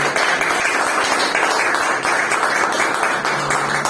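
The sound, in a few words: congregation applauding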